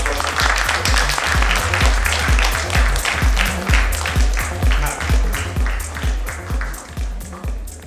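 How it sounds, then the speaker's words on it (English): An audience at a nursing conference claps in a steady, rhythmic round of applause, loud and close, with faint voices mixed underneath. "Let's give her a huge round of applause."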